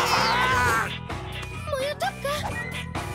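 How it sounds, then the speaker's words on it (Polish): A cartoon cat in a Polly Pocket episode lets out a few short, bright meows over a busy background of music and effects. "Pamiętacie sytuację z kotem Shani?"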